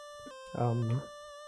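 A thin, buzzy LSDj chiptune pulse tone holds steady, cuts off abruptly with a note-kill command, then returns, while someone speaks briefly over it.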